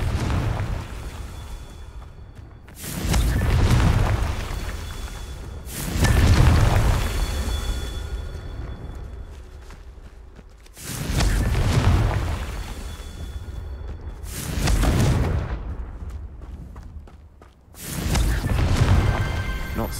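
Repeated deep booming blasts from the Confringo fire spell in the Hogwarts Legacy video game, six heavy explosions spaced a few seconds apart, each with a rumbling decay, over game background sound.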